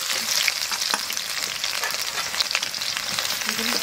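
Dry red chillies and whole garam masala frying in hot oil in a pan, a bright, steady crackling sizzle heard up close and without pause, with small pops and a few stirring touches.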